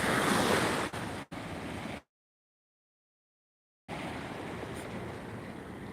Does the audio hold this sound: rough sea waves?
yes